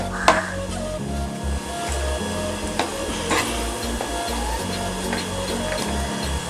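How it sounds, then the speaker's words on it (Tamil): A thick rava and milk sweet stirred with ghee in a pan, with dull rhythmic thuds and scrapes of a ladle repeating steadily over a low background hum. "தேவையான அளவு நெய் சேர்த்து இப்படி நல்லா கிளறி விட்டுக்கோங்க"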